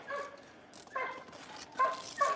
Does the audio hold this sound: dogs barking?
yes